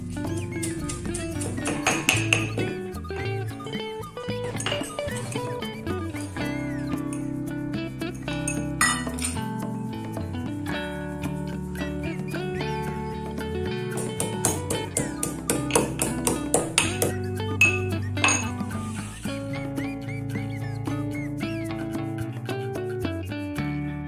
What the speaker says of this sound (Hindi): अब मूंगफली और अदरक को छील के क्रश कर लें।